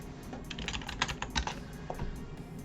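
Rapid clacking on a computer keyboard while typing a folder name, a quick run of crisp keystrokes with a few louder thumps, close and clear with no voices.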